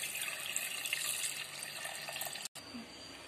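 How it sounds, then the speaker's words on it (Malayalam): Water is poured steadily into a container holding a tomato, a close, continuous splashing rush that cuts off briefly near the end before resuming. "ഇനി നമുക്ക് ഇതിനകത്തോട്ട് വെള്ളം ഒഴിച്ചെടുക്കാം."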